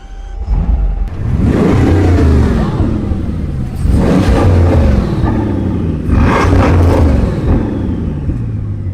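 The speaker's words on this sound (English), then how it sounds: "the whole car shakes side to side when you rev it" A Bugatti Chiron Pur Sport, capped at 4,000 rpm while parked, is revved three times in a row: loud, close bursts that climb and fall back between each blip, with no talk.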